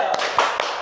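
A primary class claps out a short "tepuk semangat" ice-breaker rhythm, with two or three sharp, close hand claps in quick succession over a background of voices.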